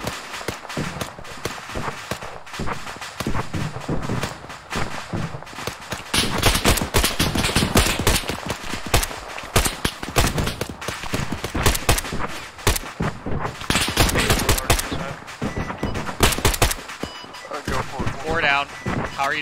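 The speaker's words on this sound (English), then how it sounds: "We're taking fire from across the bridge." Gunfire in the military video game ArmA 3, with bursts of automatic fire and single cracking shots coming in rapid, uneven volleys, some loud and close, others more distant, while voices talk over the firing.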